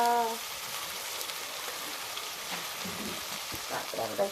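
Garlic and ginger paste frying in mustard oil, a steady close sizzle with soft crackle running throughout and no talk.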